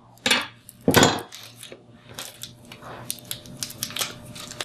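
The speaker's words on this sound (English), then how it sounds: "Give it a good smash with the back of your blade." Garlic cloves smashed with the back of a kitchen knife blade on a cutting board: two sharp, loud thumps, followed by lighter scattered taps and small crunching knocks close by.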